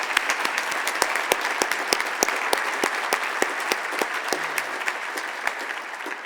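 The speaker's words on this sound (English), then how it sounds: "One more round of applause for beautiful." A crowd at an achievement celebration event gives sustained, steady applause, with sharp individual claps standing out close by over the even wash of hands.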